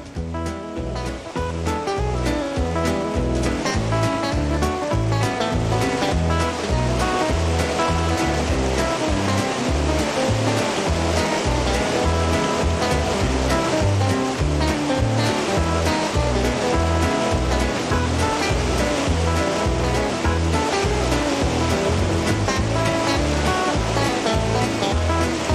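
Whitewater rapids roar continuously in the Rockies as rafts head out from Maligne Lake into the lake's outflow river, a loud, dense rush of churning water with no voices.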